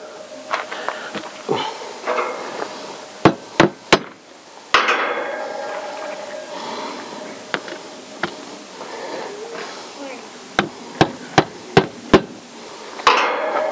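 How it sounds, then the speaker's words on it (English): Sharp hammer taps, close by, struck in quick groups of two or three with pauses between, over a faint background hum. "give it a slight tap with a hammer to get it to flush down"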